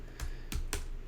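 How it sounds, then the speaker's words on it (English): Three sharp, separate clicks of a computer mouse right-click, close and fairly quiet, evenly spaced in quick succession with no talking. "again I'm right clicking to get this"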